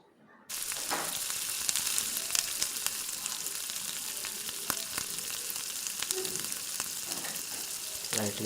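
Fish frying in a pan, a steady, close crackling sizzle that starts abruptly after a brief quiet moment and carries on evenly with scattered pops and light clinks.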